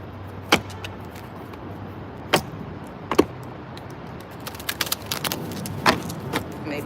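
Tarot cards shuffled at close range: a few isolated crisp snaps spread out, then a quicker cluster of papery clicks near the end, with no talking.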